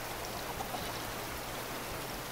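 Rain falls in the survival game Raft, a soft, even wash of patter and trickling water that continues unbroken and fairly quiet.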